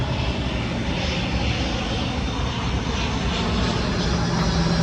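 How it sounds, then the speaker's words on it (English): An airplane flies overhead, a loud, steady broadband roar that holds for about five seconds with no voices. "Hold for the plane going over."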